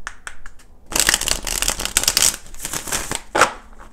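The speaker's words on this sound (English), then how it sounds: "let's go ahead and do four shuffles" Rapid crisp riffling of tarot cards, a few light taps and then a dense flurry of shuffling, close and clear with no talking.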